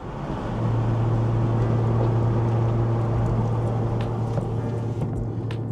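Supercharged 3.0-liter V6 of an Audi S4 drones steadily from inside the cabin with the windows up, a constant low hum and road noise throughout, no voices.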